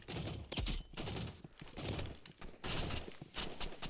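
Gunfire in Roblox Rivals, a multiplayer shooter, with dense bursts of rapid shots repeating in quick clusters, fairly quiet overall.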